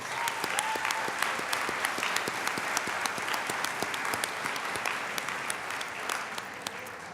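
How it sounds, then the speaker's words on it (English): Audience at an awards event for a mentoring program breaks into sustained applause, dense clapping from a crowd filling the room steadily throughout. "Let's give them a round of applause."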